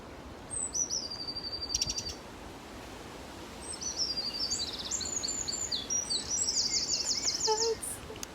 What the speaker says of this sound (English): love all these birds.